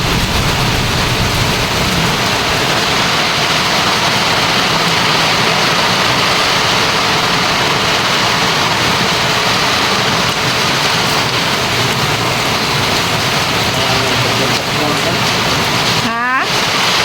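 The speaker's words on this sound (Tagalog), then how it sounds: "Nakalitog ulan ang Palawan" Heavy rain pours down in Palawan as a dense, constant roar that holds at full loudness throughout, with a brief whistling chirp near the end.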